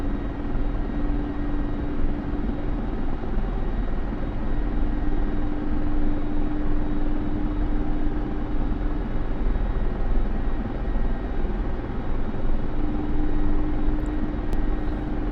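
An Mi-24P attack helicopter taking off in a flight simulator game: a loud, constant rotor and turbine drone with a steady hum, unbroken for the whole stretch and with no voices.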